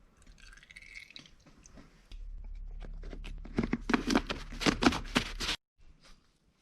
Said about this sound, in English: Let's get her in the pot here.